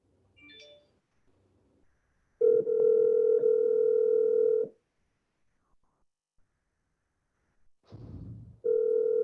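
Telephone line tones on a prepaid call from a county jail line while it connects: a short burst of faint noise, then a steady loud tone for about two seconds, silence, and the tone starting again near the end.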